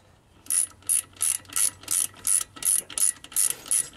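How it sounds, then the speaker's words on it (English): A ratchet wrench tightening the axle U-joint on a Jeep Wrangler TJ, about ten quick, evenly spaced metallic clicking bursts, close and loud with no talk. "Take your ratchet. Tighten it up."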